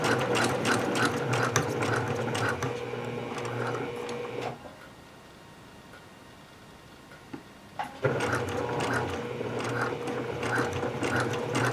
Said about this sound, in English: if you get a machine that's quick like this one is, you can sew them up fast.